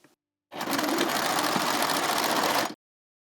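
A sewing machine stitches bias tape onto a seam in one steady, close, loud burst of about two seconds, with a fast even mechanical chatter that starts and stops abruptly and no voices.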